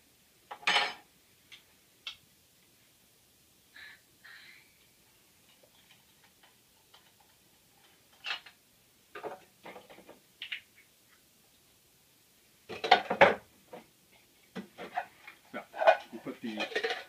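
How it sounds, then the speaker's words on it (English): Sparse metallic clinks and taps as a titanium cup, fuel canister and Pocket Rocket stove are packed together, faint scattered knocks with quiet gaps, someone talking over parts. "Put the fuel down in there. Coffee cup on top of it. Take the pocket rocket piece, stick it in there."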